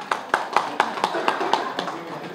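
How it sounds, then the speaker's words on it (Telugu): Scattered, rhythmic hand claps from an audience at a Telugu political rally speech, a handful of sharp distinct claps spaced evenly over a couple of seconds rather than full applause. "చప్పట్లు కొట్టండి"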